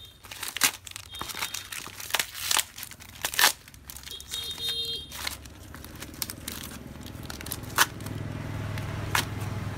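Close, loud crinkling and tearing as a parcel holding a boost converter IC is unwrapped, with sharp rips of plastic and paper, rustling in bursts, then a softer steady rustle toward the end.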